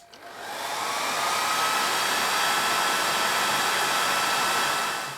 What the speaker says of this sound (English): the hairdryer keeps cutting out when it gets too hot.